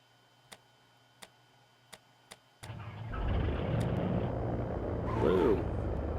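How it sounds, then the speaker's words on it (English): A Cirrus SR20 aircraft engine being started at idle throttle with full mixture: four separate sharp ticks, then the engine catches and settles into a loud, steady run that swells slightly; no talking. "bring the throttle back to idle, mixture full, and we'll go ahead and get it started."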